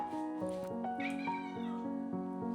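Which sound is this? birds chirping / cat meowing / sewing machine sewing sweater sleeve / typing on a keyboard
cat meowing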